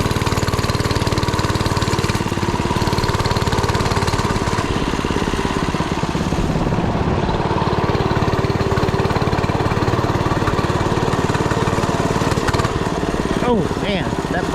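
A small motorbike without shock absorbers rides over bumpy ground, its engine a loud, constant rough chugging close by, with rattles and thumps from the bumps and a voice talking intermittently.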